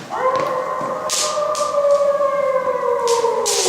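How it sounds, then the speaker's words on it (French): A long, mournful wolf howl gliding slowly in pitch, loud and sustained, with a few short sharp knocks in the background. "le terrible hurlement du loup qui recommença"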